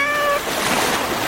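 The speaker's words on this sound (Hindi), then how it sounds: "हम ये प्यारी बिल्ली को ले सकते हैं।" A cat gives one short, loud meow at the start, followed by a breathy, noisy hiss.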